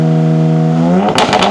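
Ram RHO truck fitted with an AWE exhaust revving high, a loud close engine note that climbs steadily in pitch and then cuts into crackling pops.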